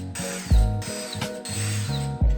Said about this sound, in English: I'm probably gonna just put 4 screws.